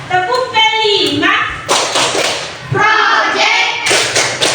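A primary school class claps a rhythmic pattern, the fifth clap routine. Children chant in sing-song voices between the sharp clap bursts, which come in quick grouped hits.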